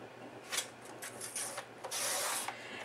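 Scissors slice through spice cake patterned craft paper in a handful of short, close, soft rasping strokes, faint and uneven, with no talking.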